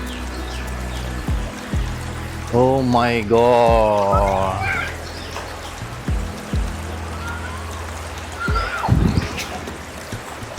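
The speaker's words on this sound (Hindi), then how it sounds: "कितनी अच्छी वो वाटरफॉल की आवाज आ रही है ना, साउंड कितनी अच्छी आ रही है" A small waterfall pours in a rural outdoor setting, its steady rushing and trickling water running throughout while a nearby person exclaims and talks over it.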